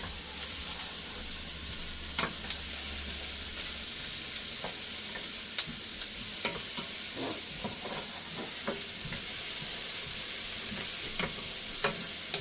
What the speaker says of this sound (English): We're just softening them a little bit and getting the flavor of the onion like in the pan.